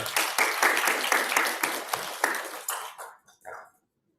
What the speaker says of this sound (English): huge round of applause for all the people there